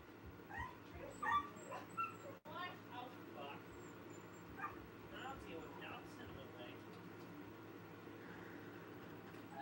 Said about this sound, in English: It sounded like Chris just hit that dog.